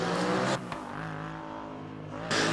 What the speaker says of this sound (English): just the car that's on the practice track. I just love the sound of it.